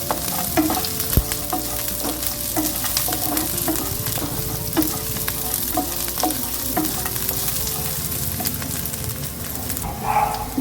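Seeds are stirred into mappillai samba poha in a hot pan, with a spoon scraping in quick repeated strokes over a steady sizzle, close and fairly loud, and no talking.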